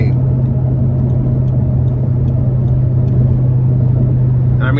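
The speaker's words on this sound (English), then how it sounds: "that's what you get when you put a V10 naturally aspirated engine with a 6-speed automated manual transmission like this" Interior sound of a 2010 Audi R8 V10 Quattro, naturally aspirated V10 with six-speed automated manual, cruising: a loud, constant low engine hum and road rumble with no pronounced revving, steady throughout.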